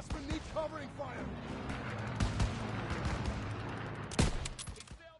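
Covering gunfire in a WWII video game battle, Operation Cobra, with bursts of rifle and machine-gun shots and booming impacts under shouted voices, plus a sharp loud crack near the end.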